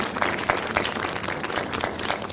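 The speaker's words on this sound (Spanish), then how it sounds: "Un aplauso" An audience at a lecture on voice, radio and democracy claps for a speaker, giving steady, moderately loud applause made of many overlapping hand claps.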